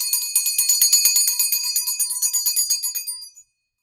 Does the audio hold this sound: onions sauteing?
no